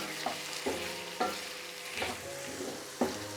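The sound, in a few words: squid masala frying on high flame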